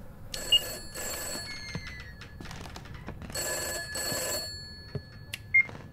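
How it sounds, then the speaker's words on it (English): An old-fashioned telephone bell in the horror game Summer of '58 rings in repeated bursts of metallic trilling, with short gaps and sharp clicks between rings, no talk over it. "The phone just rings and you get there and there's nothing."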